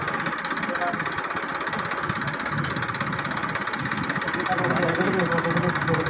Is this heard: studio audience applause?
no